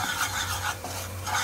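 A spoon scrapes and rubs around a pan as turmeric and Kashmiri red chili powder are stirred in, a continuous rasping sound with a few small rhythmic pulses and no talking.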